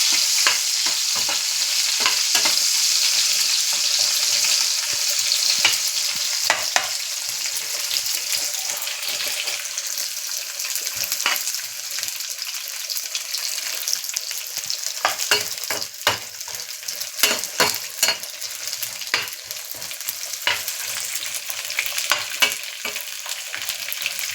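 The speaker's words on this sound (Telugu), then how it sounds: "కొంచెం వీటిని ఆయిల్లో ఫ్రై చేసుకోవాలి ఫ్రెండ్స్" Dry meat frying in oil gives a continuous bright sizzle, up close, with frequent crackles and pops and scraping stirs that grow busier and more irregular in the second half.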